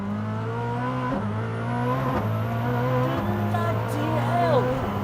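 Koenigsegg Jesko hypercar accelerating hard toward the Hammerhead corner at over 150 mph, heard from inside as a loud, sustained engine drone with brief dips at gear shifts and a rising whine.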